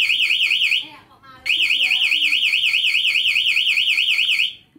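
Honda Genio 110 scooter anti-theft alarm sounding, a loud warbling electronic siren that cycles rapidly up and down in pitch, briefly dropping out before resuming and then cutting off.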